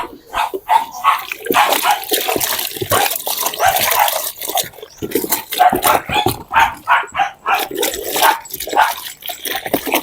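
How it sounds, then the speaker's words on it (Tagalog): Dog barking loudly and close, repeated sharp barks in an uneven, agitated series, mixed with splashing, wet-sounding noise and a brief voice. "Ngingay nung aso."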